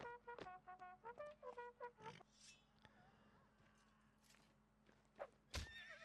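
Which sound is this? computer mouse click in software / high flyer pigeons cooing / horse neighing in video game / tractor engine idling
horse neighing in video game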